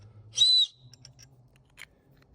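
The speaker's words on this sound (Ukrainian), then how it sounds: "Буде свисток." Small whistle built into a multifunctional survival shovel gives one short, shrill blow lasting about a quarter second, followed by a few faint clicks and taps from handling the tool nearby.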